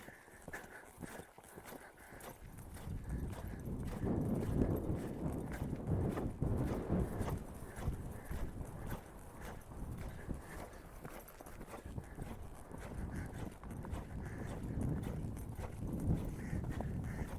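Horse cantering in an arena during counter-canter work, hooves thudding in a steady rolling rhythm, fairly faint and continuous throughout with no voices.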